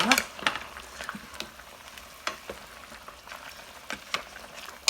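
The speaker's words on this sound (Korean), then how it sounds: "그래서 감자를 넣고 5분 동안 끓일게요" A pot of braised pork ribs with potatoes bubbles and simmers, with soft irregular pops and a few clinks as it cooks steadily, close by and without voices.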